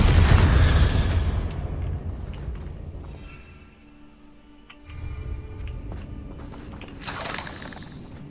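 A Bombarda spell blasts in the Hogwarts Legacy video game, a loud booming burst at the start that fades into quieter rumble, followed by further lighter impacts and a renewed crackling surge near the end.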